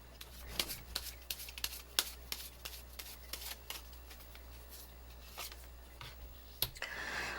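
Tarot cards are shuffled by hand, a fast run of crisp riffling flicks and taps, close and fairly quiet, continuing for several seconds with no talking.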